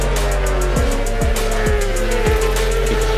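Glenn Irwin's number 2 Honda Fireblade racing motorcycle howls at high revs, with rapid upshifts stepping the engine note in a repeating pattern, loud and close, with no voices.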